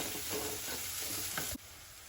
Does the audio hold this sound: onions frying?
yes